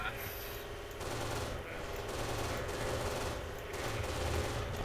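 Sustained automatic gunfire from American weapons in the video game Kane & Lynch 2, set on a factory site, a dense, steady fusillade of rattling shots throughout, moderately loud.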